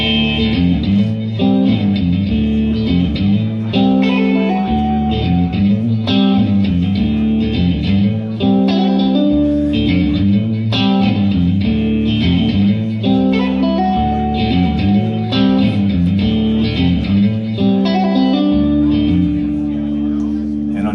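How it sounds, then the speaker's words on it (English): Electric guitar through a Line 6 POD Go plays a continuous chordal passage drenched in lush, washy reverb, steady and fairly loud throughout. "Big reverb."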